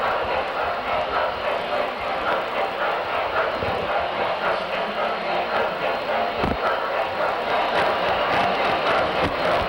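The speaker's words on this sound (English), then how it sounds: "Let me give you a minute to listen to the sound of the locomotive as it's passing by." A standard-gauge toy electric model train locomotive at a Christmas display in the Maine State Museum rolls past with a steady, dense whirring rumble that holds level throughout, a clack standing out near the middle.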